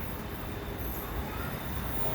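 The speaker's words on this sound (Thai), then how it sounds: "รถไฟฟ้าก็ได้เคลื่อนตัวไปแล้วนะครับ" A steady, broad rumble of an elevated electric train pulling away from Victory Monument station in Bangkok, continuous and fairly distant, with an even wash of rail noise throughout.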